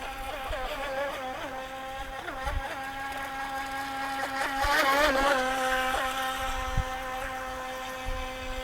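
The motor of a UDI U001 Cheerwing Venom RC racing boat whines at speed, a high buzzing tone that rises and falls in pitch as the boat carves turns, with no one talking.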